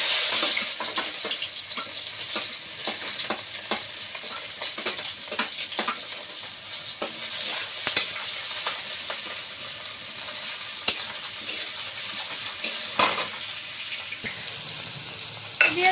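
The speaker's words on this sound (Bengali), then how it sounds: "এবার তেলে পেঁয়াজ আর কাঁচা লঙ্কা দিয়ে দেবো" Onion and green chilli frying in hot oil in a home kitchen, a steady close sizzle with scattered clinks and scrapes of stirring throughout, no voices.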